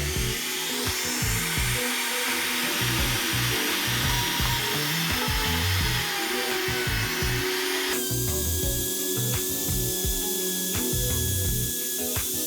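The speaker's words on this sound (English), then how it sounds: "I'm going to use a flat router bit to make the notch." A power router with a flat bit cuts a notch into a wooden piece for a key hanger, giving a loud, steady, continuous grinding whine that shifts tone partway through; no voices.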